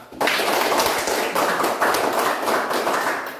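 Classroom applause for a student group after their discussion presentation, a dense burst of many hands clapping together at close range, holding steady for about three seconds before fading slightly.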